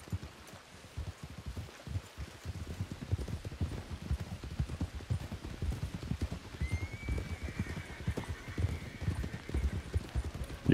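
A horse in a video game clip-clops along in a steady run of hoofbeats, with a drawn-out neigh rising over the trotting partway through; no one speaks.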